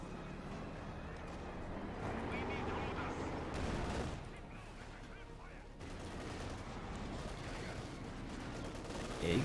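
Machine-gun bursts and mortar fire in a Company of Heroes 2 battle, dense rattling gunfire and booms running continuously at moderate distance, with a brief lull near the middle and a louder hit at the end.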